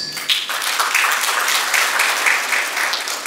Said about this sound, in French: Je voudrais vraiment qu'on l'applaudisse.